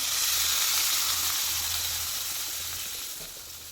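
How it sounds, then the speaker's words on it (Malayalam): Vinegar poured into a hot pan of gooseberry pickle sizzles loudly and steadily, a close bright hiss that slowly eases off, with no voices. "പിന്നീട് അതിലേക്ക് ഒരു 1/4 കപ്പ് വിനാഗിരി ഒഴിച്ചു കൊടുക്കാം."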